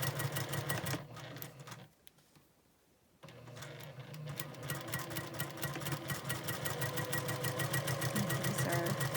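A sewing machine stitches fabric in a steady rapid patter, stopping for a short pause before running on again in a continuous mechanical chatter, close and fairly quiet.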